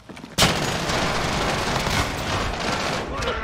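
Gunfire in the battle royale game Warzone, a sudden loud burst after a brief quiet start, then dense continuous shooting and crackle that stays at the same level to the end, with faint talk underneath.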